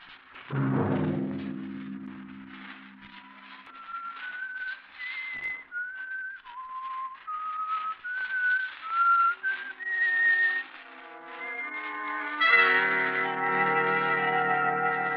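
A lone whistler carries an eerie, wavering melody in a 1942 radio mystery drama, each note echoing and drenched in reverb, rising in steps before a closing swell.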